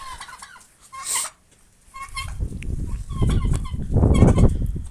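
Turkeys gobble loudly and close among clucking chickens in a poultry yard, with repeated bursts of fowl calls over a busy background of shuffling birds.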